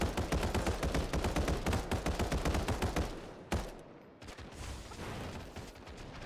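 Gunfire in Final Fantasy VII The First Soldier: a rapid string of sharp shots for about three seconds, then one separate crack, followed by quieter scattered noise.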